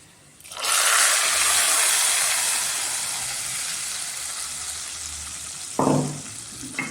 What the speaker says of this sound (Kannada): ಇದು ಸ್ವಲ್ಪ ತುಪ್ಪದಲ್ಲಿ ಫ್ರೈ ಆಗಲಿ ನೋಡಿ. ಇವಾಗ ದ್ರಾಕ್ಷಿ ಗೋಡಂಬಿ ಹಾಕೋಣ